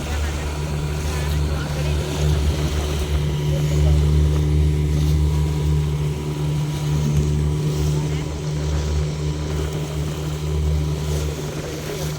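A glass-bottom speedboat runs across open sea off Lakshadweep, its motor giving a loud, steady drone with wind and water noise throughout, and voices faintly present at times.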